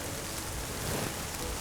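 Outdoor rain during a black bear hunt in Alberta, falling harder as a dense, steady patter and hiss on the surroundings, close and continuous with no voices.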